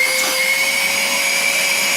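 Ozito 18V wet/dry vacuum cleaner running with its suction on, a loud, steady whining drone with a fixed high-pitched tone that holds evenly throughout.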